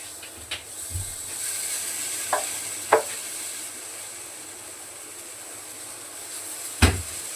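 Steady, even sizzling of mung bean batter cooking on a hot griddle, with a few sharp taps and clinks scattered through.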